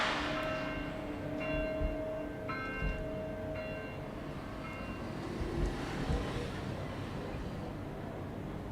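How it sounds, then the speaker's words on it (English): A church bell in a video game tolls steadily several times at a moderate distance, ringing over a constant low rumbling background. "This is just the church bell."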